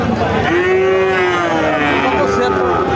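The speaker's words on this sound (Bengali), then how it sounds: "দর্শক আপনারা শুনলেন এই যে গরুটা" A cow lets out a long, loud low moo lasting a couple of seconds, over a busy, noisy outdoor crowd at the Barobazar cattle market in Jhenaidah, Bangladesh.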